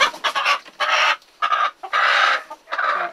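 Young roosters cluck and squawk in several loud bursts with short pauses between them, close by and with no talk over them.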